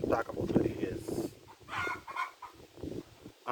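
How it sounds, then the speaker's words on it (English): Laying hens clucking on a farm, with several nearby bursts of clucking and squawks in an uneven rhythm, heard close and fairly loud with pauses between calls. "the noise coming from the chicken."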